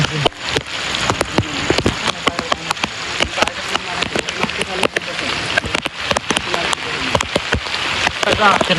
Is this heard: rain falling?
yes